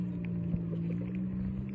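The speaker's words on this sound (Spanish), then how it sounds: "Aquí corre mucha lancha," Motorboats hum steadily across the water on a calm afternoon, a low continuous engine drone with faint splashes and wind, moderately distant and without talk.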